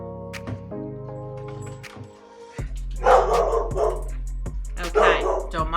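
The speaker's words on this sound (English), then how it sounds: "my dog's barking in the background" A pet dog barking in the background of a home kitchen during Sunday dinner cooking, several sharp barks spaced unevenly, moderately close, amid household noise and a steady hum.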